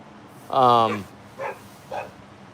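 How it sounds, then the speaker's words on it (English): A single loud, harmonic bark followed by two shorter, fainter yips, with a quiet background hum. "The dog is barking like hell."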